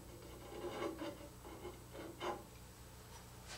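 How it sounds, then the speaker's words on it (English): A woodturning bowl gouge being sharpened by rolling it across a bench grinder wheel gives faint, repeated rasping strokes over a quiet steady background, with no speech. "when you're grinding, to roll your gouge back and forth across your wheel"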